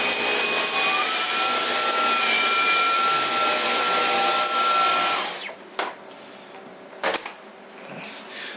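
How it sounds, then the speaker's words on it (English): A Dyson V11 cordless stick vacuum runs loudly and steadily over soft carpet with a high motor whine for about five seconds, then winds down and stops, leaving a couple of faint clicks and handling knocks. "let's go ahead and just vacuum up the rest of this and see how she does"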